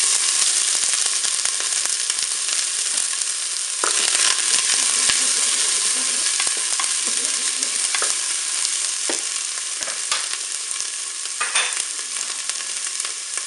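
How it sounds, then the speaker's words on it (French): Onion pieces fry in hot olive oil in the bowl of a Cookeo multicooker, giving a constant close sizzle with occasional scraping stirs, and no one speaks. "l'huile est chaude, on va mettre les morceaux d'oignon."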